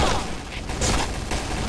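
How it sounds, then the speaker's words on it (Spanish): Dense, rapid gunfire crackles and booms continuously, loud and busy, like a heavy firefight in the online shooter Point Blank. "Veo disparos"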